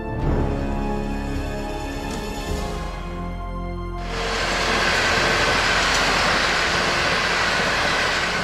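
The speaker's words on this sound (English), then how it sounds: "On the Liuli River section of the Jingguang Railway, hundreds of trains run every day." A long, steady rumble of a train rolling past on the Jingguang Railway at the Liuli River section, with broadband rail noise swelling louder halfway through and continuing to the end.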